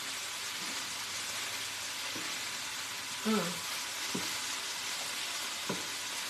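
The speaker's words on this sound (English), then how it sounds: "you can hear the sizzling." Faint steady sizzling of food frying in a pan, with a few brief quiet voice sounds over it.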